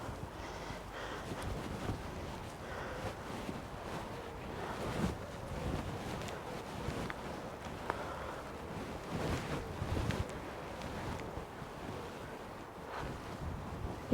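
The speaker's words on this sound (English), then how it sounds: "It's windy, doesn't help" Gusty outdoor wind buffets the microphone in a steady, rumbling rush that swells and eases, fairly quiet, with no speech over it.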